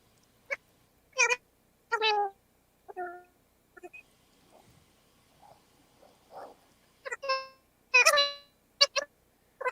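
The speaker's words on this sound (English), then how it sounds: "Somebody have a cat by there, Mike?" A run of short, tonal meows comes in bursts, some loud and close, separated by quiet gaps, with no talking.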